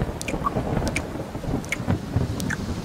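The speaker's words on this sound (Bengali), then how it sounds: "আজকের এমন বৃষ্টি বাদলার ঠান্ডা আবহাওয়ায়" Rainy-weather ambience with a steady patter of rain and a low rumble of thunder underneath, punctuated by a few faint, high, brief chirps.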